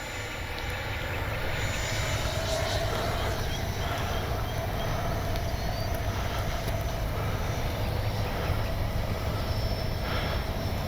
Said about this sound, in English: We're going to take it up now.